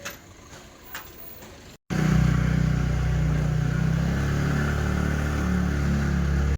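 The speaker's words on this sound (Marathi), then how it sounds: "गाडी आली आमची फिरण्यासाठी" A vehicle pulls up near a clean market in Dharwad to pick up travellers; after a brief quiet pause, a loud, steady engine rumble starts abruptly and holds close by.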